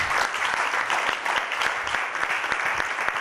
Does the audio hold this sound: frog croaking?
no